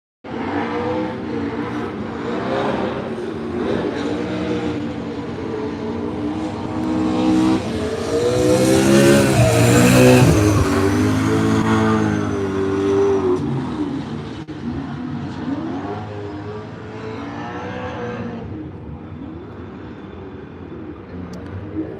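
A drift car at a Drift Masters practice day in Finland revs hard and loud, the engine note climbing and falling as it passes close, peaking mid-way before easing off into a more distant drone.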